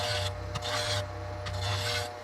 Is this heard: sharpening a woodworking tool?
yes